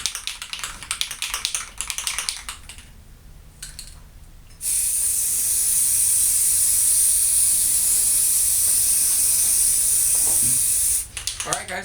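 Deft polyurethane sprays onto a red oak longbow as a steady, loud hiss lasting several seconds. Scattered clicks and handling noises come before it, and it stops abruptly near the end.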